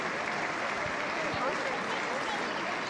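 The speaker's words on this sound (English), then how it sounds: "The applause for Cenk, who's back on." Spectators at a Freiburg versus Bayer Leverkusen women's Bundesliga football match applaud a player returning to the pitch, a dense, steady wash of clapping from a distant stadium crowd with a commentator's voice faintly underneath.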